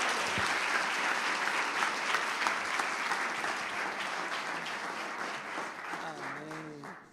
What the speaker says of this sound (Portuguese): Queria que você aplaudisse a Jesus.